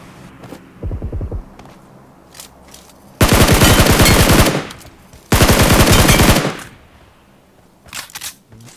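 Game gunfire in PUBG includes an M4 rifle. A short burst is followed by two long, loud bursts of rapid automatic fire, separated by quiet gaps, then a few scattered faint shots.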